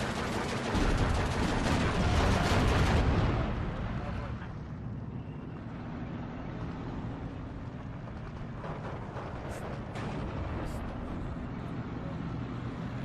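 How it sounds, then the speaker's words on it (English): T-34-85 tanks firing in the WWII strategy game Steel Division 2, a dense roar of cannon and gunfire that is loud at first and then settles into a steadier battle rumble, with a voice talking over it. "All the shots coming across there from these T-34s."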